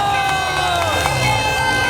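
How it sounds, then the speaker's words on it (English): A crowd cheers at a racetrack in a steady, loud, roaring wash that never lets up, while a commentator's voice talks over it. "The cheers of the crowd at this amazing track,"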